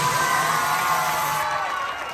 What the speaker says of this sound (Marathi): निलेश भाऊ साठी जोरात टाळ्या वाजवा.